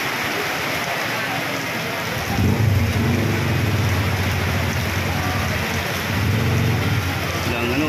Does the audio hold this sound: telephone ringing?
no